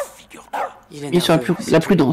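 A dog barks in the video game As Dusk Falls, a few yelps mixed with voices talking over it throughout the short stretch.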